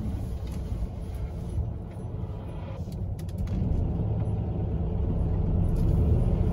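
Volkswagen Fusca (Beetle) heard from inside while driving, a steady low engine rumble and road noise that swells slightly louder and continues throughout.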